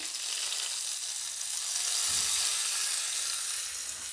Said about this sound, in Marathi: आपल्याला ही फोडणी चटणीवर टाकून घ्यायची आहे